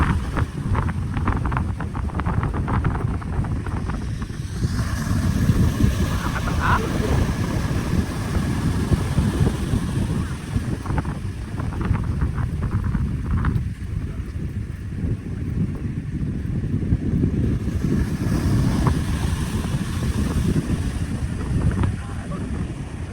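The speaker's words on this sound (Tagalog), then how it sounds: "Kaya malalaki alon" Big ocean waves at Imperial Beach, San Diego, in strong wind, a constant roaring wash with heavy wind buffeting on the microphone throughout.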